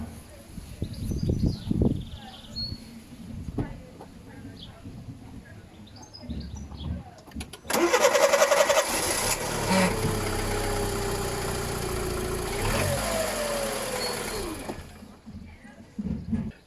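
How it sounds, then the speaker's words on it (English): Volkswagen Polo petrol car cranked and fired up, engine catching into a steady close idle that runs for several seconds before cutting off, with birdsong and faint outdoor sounds before it. "So we'll go in the car now and start this bad boy up"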